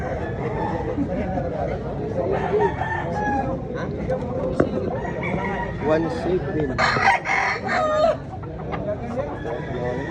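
Roosters crow and hens cluck at a fowl expo in Consolacion, Cebu, steady and fairly near throughout, while people talk and haggle over birds close by.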